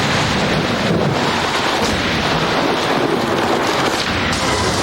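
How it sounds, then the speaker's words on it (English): Marble-sized hail pounding down during a severe storm over a Tucson, Arizona neighborhood, a dense, steady roar of impacts with wind buffeting the microphone throughout. "The weather system showers a Tucson, Arizona neighborhood with marble-sized hail."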